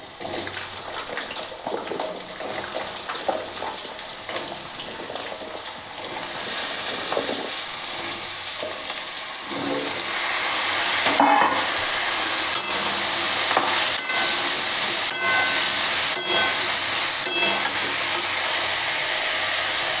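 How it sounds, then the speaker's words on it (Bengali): Potato pieces drop one by one into hot oil with 5-spice tempering (panch phoron) for aloor tarkari. The soft sizzle and stirring build to a loud, constant frying hiss with sharp crackles and spoon scrapes, and nobody speaks. "এবার আমি এর মধ্যে টুকরো করা আলুগুলো একে একে দিয়ে দেবো।"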